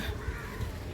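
A crow in Fort Kochi gives a couple of harsh caws at close range, short and rough, with no talk.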